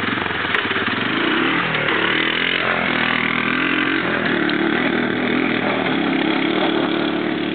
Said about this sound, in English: we'll open up the two of the quads, mine, the Moto 4 200, and Zach's Honda 4-Trax 250